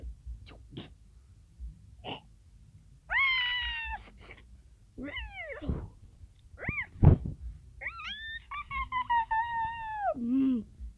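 A cat meows several times, with drawn-out, wavering cries between quieter thumps and rustles, fairly close in an otherwise quiet setting.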